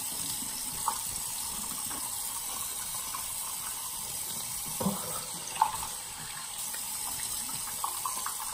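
Tap water runs steadily into a sink while a face mask is rinsed off, a continuous close hiss with a few small splashes and clunks.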